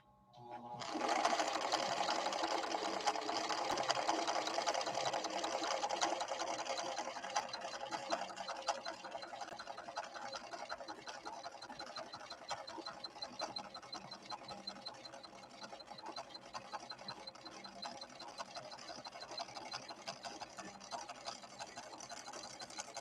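A ruby red Viking Husqvarna 6460 sewing machine, back from repairs, runs steadily at speed, its fast mechanical whirring and needle chatter continuous and close for the whole stretch.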